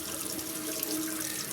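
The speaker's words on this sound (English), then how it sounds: "I just like to flush it out with some water first over the sink" Tap water runs steadily over a sink while a Pilot Parallel calligraphy pen cartridge is flushed of ink, a continuous close splashing rush with no pauses.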